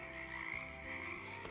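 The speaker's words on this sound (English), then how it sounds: "Frogs say ribbit, ribbit, ribbit." A frog croaking, with a steady low rasping call that carries through the short stretch without any talking.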